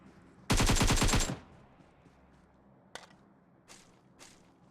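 Gunfire in the PUBG Mobile video game: a loud close burst of rapid automatic shots lasting under a second, followed later by a few single fainter shots.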